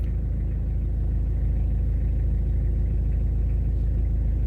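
A Toyota Hilux Surf engine runs at a steady, deep idle, with a constant low rumble close by and no break in the sound.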